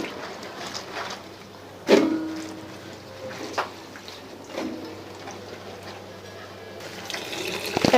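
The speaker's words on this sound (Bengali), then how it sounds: "এখন আমি কচুগুলো ভালো করে ধুয়ে নেব" Cut taro pieces being washed by hand in a pot of water, with soft sloshing, splashes and a few clinks against the container, quiet and close, with a low steady hum behind.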